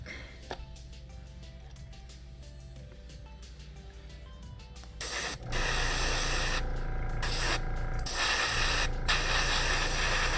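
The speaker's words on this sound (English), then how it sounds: "I'm just gonna airbrush this side real quick." Airbrush spraying a light coat of pink paint onto a 3D print, quiet at first, then a loud, steady hiss of spray from about five seconds on, broken by a few short pauses.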